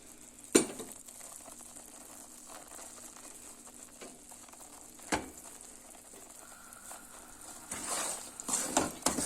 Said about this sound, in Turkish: Ben bunu çevire çevire yağda kavuruyorum şimdi